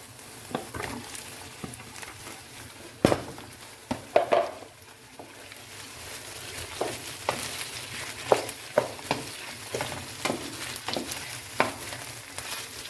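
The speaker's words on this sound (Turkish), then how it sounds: "Bu şekilde biraz suyunu salıp çekene kadar soteliyoruz." Chicken and onions sautéing in a pan, with a continuous soft crackle broken by occasional utensil scrapes and stirring clinks.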